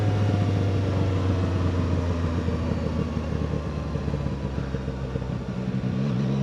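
CFMoto 675SR-R sport motorcycle, a 2025 model, heard while riding: a steady engine drone and low rumble with wind noise that carries on unbroken throughout.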